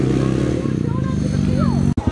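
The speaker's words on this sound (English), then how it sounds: "there's a four-wheeler here, and I kind of want to vlog while Kyle drives it" A four-wheeler's engine runs with a harmonic buzz that rises and falls as it revs, close by, while people talk over it; a brief knock cuts in near the end.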